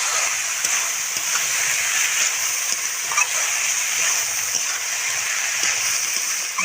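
Banana flower is stir-fried with salt in a pan, giving a steady, close hiss of sizzling under faint, scattered scrapes and taps of a spatula.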